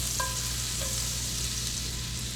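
Oil and butter fry in a pan with a soft, steady sizzle, fairly quiet and continuous, broken by a couple of brief tonal clinks near the start.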